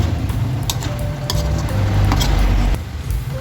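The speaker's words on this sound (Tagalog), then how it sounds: "Haluin natin." Chicken liver is stirred in a hot pan with sugar and spring onion leaves just added, giving a steady sizzle with repeated close scraping and clinking of the utensil against the pan; no one speaks.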